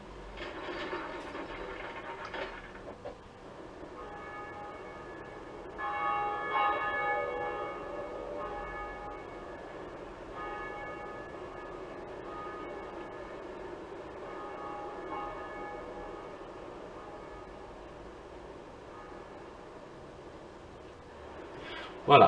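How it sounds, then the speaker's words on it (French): A church bell rung in the Dark Souls video game, with a sustained metallic ringing and overtones that swell and decay through the scene before a sharp hit at the end. "on va sonner la cloche et je vous laisse la cinématique"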